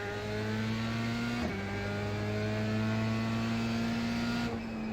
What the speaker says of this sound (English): Watch your mirrors, there's a car approaching.